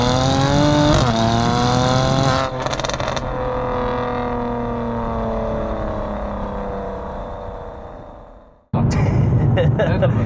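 A stock Mercedes C43's engine and exhaust rumble up close, revving and then easing off with a droning note before cutting out and roaring back.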